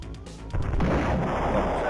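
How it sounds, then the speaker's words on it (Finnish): Two gunshots fire in the Star Control space combat game, a sharp onset followed by a sustained loud blast that fills the rest of the moment. "Se oli kaksi laukausta"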